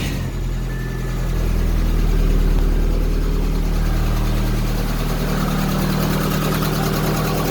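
A classic Ford Fiesta engine, run cold without its radiator in a garage, holds a loud, steady idle with a lumpy low rumble and a slight rise in revs early on, with no one talking.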